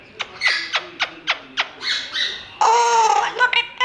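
A small bird gives a run of sharp, harsh squawks in quick succession, close by, ending in a longer raspy burst.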